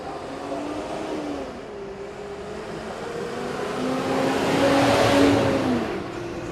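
A vehicle engine hums steadily and swells louder as it drives past nearby, with a rising and falling tonal drone.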